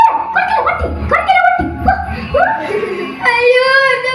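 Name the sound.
dog barking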